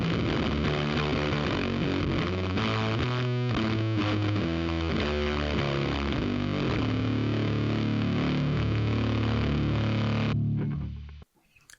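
Electric guitar through a fuzz distortion pedal in a thick, saturated shoegaze tone, chords ringing loud and sustained for several seconds before cutting off abruptly, with no talking.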